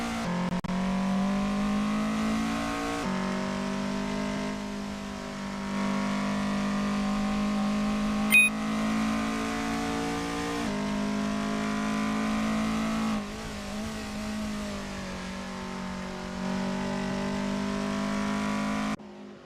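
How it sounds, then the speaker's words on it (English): An MK1 Golf race car in a racing simulator drones steadily on an out lap, its engine note climbing repeatedly through the gears with brief shift dips, moderately quiet and with no talk. "Peter Geldenhuys is on their out lap, warming up the tires and getting ready to put in a fast lap time."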